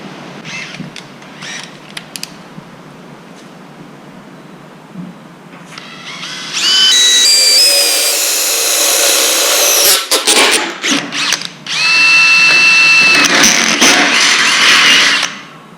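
A power drill bores a hole through a galvanized metal corral gate during a repair, the loud grinding whine starting partway in, pausing briefly, then resuming at high pitch until near the end.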